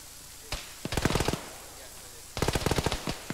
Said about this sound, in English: Everyone else is shooting.